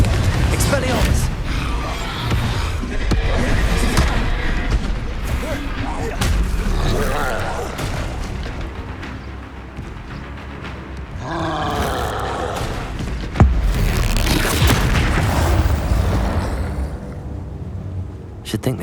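Spell blasts crack and boom in the Hogwarts Legacy video game, a run of loud magical bursts and impacts in quick succession, mixed with a voice casting them over dense combat effects.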